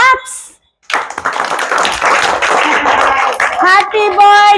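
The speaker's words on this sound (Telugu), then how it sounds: "క్లాప్స్." Group of people clapping at a birthday cake cutting in a village, a dense burst of applause after a brief pause, with voices joining in toward the end.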